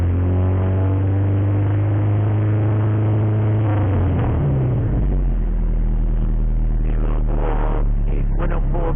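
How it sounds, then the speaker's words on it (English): A Honda Civic engine revs up under throttle, its low harmonic drone rising and shifting around mid-clip before settling into a steady deeper idle-like hum, close and continuous with no talk. "If I give the car some gas"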